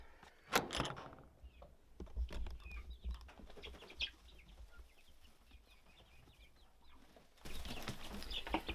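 Young chickens in a brooder house make soft clucks and cheeps, with bursts of wing flapping and some rustling and bumping, fairly quiet and close.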